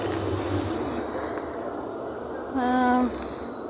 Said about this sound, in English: tram's in the background, a bit loud